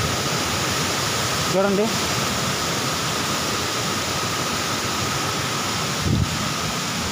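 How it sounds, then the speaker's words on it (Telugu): Kaigal waterfall in dense forest pours as a steady close rushing roar, with a voice speaking briefly over the constant water noise. "కొన్ని జలపాతాల సమూహమే మన కైగల్ జలపాతం"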